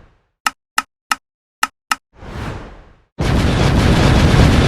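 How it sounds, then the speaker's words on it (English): Edited-in explosion sound effects: a run of five sharp clicks, a rising whoosh, then a loud, dense roaring blast that sustains to the end. "that probably means I need to edit in a bunch of explosions"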